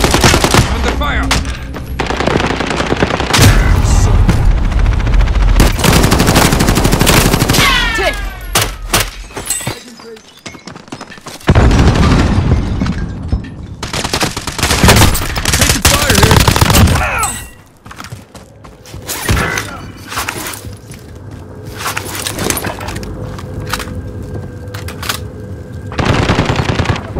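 Gunfire in Call of Duty: Modern Warfare Warzone: heavy, close machine-gun bursts and rapid shots fill the scene, with breaking and shattering impacts, brief pauses, and some voices between the volleys.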